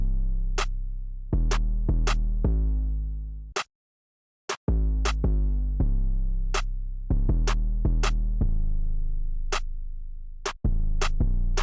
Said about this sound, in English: Then next I added the snare and the clap, and this is what all that sounds like together